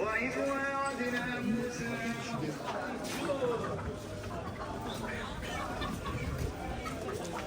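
Chickens cluck and squawk close by at a market in Morocco, amid busy market noise, with people talking continuously in the background.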